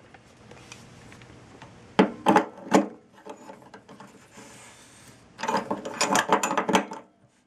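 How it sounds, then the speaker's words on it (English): Wrench tightening a new electric water heater element into its tank port: two bursts of quick metallic ratcheting clicks, a brief one and a longer run, close by with quiet pauses between. "we'll put the wrench on it."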